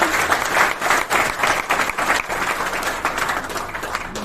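Loud applause at a seminar for a guru, a dense, sustained roar of many hands clapping together for over four seconds, swelling and dipping slightly, with a few voices mixed in.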